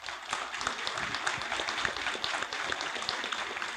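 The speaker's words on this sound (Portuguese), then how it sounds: "uma extraordinária salva de palmas" Crowd at a political rally in Rio de Janeiro applauding a social movement, dense distant clapping heard faintly and steadily with no voices on top.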